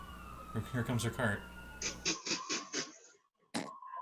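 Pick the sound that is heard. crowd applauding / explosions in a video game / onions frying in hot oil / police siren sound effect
police siren sound effect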